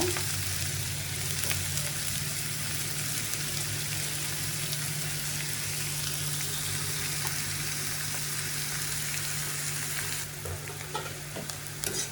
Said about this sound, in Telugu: ఆనియన్స్ బాగా వేగాలన్నమాట.